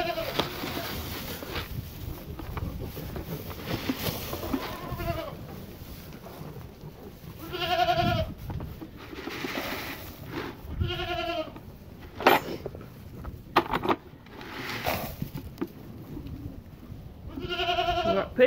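Goats, including a buck, bleating nearby on a farm, several wavering calls spaced out over steady wind and outdoor rumble.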